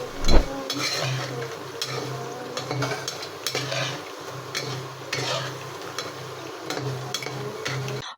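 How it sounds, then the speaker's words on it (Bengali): Bread rolls fry in hot oil with a continuous crackling sizzle, steady and close, broken by occasional utensil clinks, with no talking. "রোলগুলো ভাজা হয়ে গিয়েছে"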